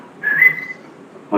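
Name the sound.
whistle imitated by voice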